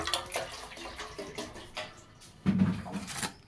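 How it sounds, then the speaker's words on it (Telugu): Water poured into a cooking pot of sweet potatoes being boiled, heard as brief splashy gushes and trickles at close range, with a stronger pour near the end. "వేసుకొని నీళ్ళు పోయారు."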